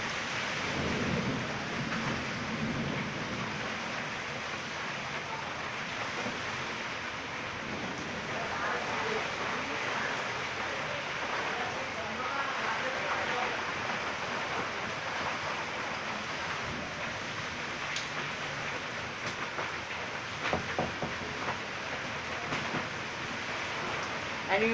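A thunderstorm with heavy rain pours steadily while deep thunder rumbles roll through, loud and continuous, with faint voices mixed under the downpour.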